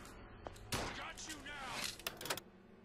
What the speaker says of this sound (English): Hearing lots of gunshots out there.